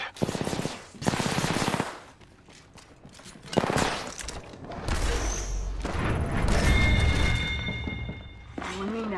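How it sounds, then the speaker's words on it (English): Automatic weapon fire in the Apex Legends video game, loud rapid bursts of shots and booms that repeat through the clip, with game voice callouts and electronic tones in between. "I am taking fire."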